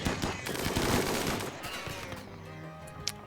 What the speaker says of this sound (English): they got a couple shots off